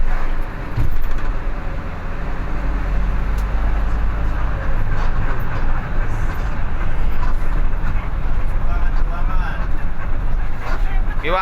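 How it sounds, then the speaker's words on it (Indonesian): The rear engine of a bus runs with a steady, loud, close low rumble throughout, while people talk over it. "Iki mesin belakang iki coba delok."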